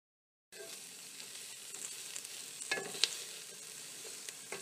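Onions cook over very low heat in a pan for carrot soup and are stirred now and then. After a moment of silence, a soft, steady sizzle begins, with occasional light scrapes and clicks.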